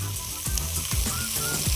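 Diced pepper sizzling in a pot on the stove, a steady close frying hiss broken by several rhythmic scraping stirs of a utensil.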